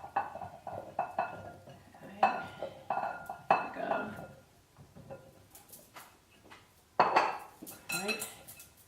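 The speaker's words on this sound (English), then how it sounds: "I'm going to grab my pan. Okay. And we're going to go ahead and dump these potatoes" Potatoes tumble into a pan for baking, making a series of clattering knocks and metallic clinks of varying loudness, with a louder burst near the end, close by and without talk.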